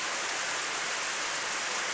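Steady, dense hiss of heavy rain driven by wind in the video game Stormbreak, constant and enveloping with no distinct drops or gusts.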